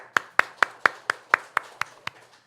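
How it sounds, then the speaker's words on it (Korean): Steady, rhythmic clapping in unison during a Sunday church worship service, about ten sharp claps at an even beat, fairly close and clear, fading slightly toward the end. "우리 주님께 박수로 영광 돌립니다."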